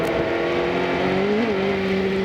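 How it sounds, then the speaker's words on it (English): Race car at the 2001 Grand Prix of Mid-Ohio cresting a hill with wheel spin, a steady loud engine drone with a brief pitch wobble and shift partway through, heard alone. "Hear the wheel spin as the car comes up over the crest of the hill"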